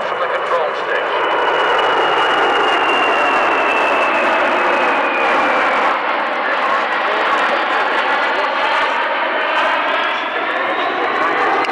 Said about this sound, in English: Now the aircraft maneuvering away from the airport to demonstrate a full flap approach